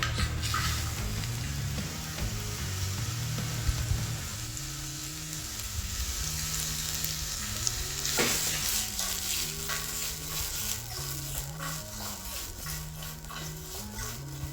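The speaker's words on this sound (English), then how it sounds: "then in with my peppers and onions" Sliced peppers and onions frying in hot oil in a pan, a steady close sizzle with occasional stirring scrapes, over a low background hum.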